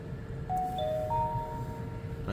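A few soft electronic chime tones from a 2016 Dodge Grand Caravan ring out one after another over a low engine hum, clean and close.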